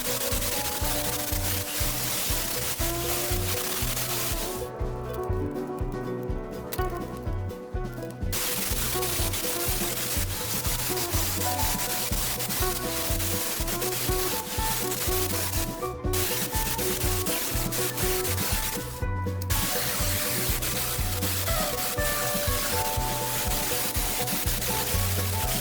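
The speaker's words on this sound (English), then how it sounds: "For grinding I use a sanding disc with 36 grit" A 36-grit sanding disc grinds against metal during restoration of a Nashorn's safety covers, a steady, harsh rasp that keeps going throughout, with a few brief dips in the high hiss.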